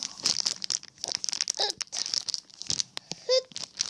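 Plastic taco kit packaging is torn and crinkled open up close, with sharp crackling rustles and rips in irregular bursts, and short vocal sounds in between.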